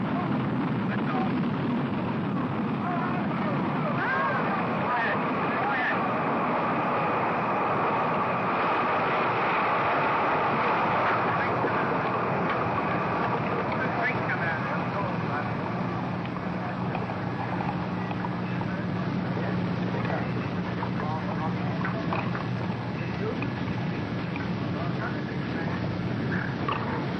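A Jupiter-C rocket lifting off with the Explorer 1 satellite gives a continuous broad roar throughout, steady and powerful with a low hum underneath, and no voices over it.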